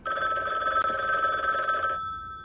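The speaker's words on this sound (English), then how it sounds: "Let's go answer our phone." A telephone rings in the video game The Book Walker: Thief of Tales, a steady electronic bell tone that stops near the end.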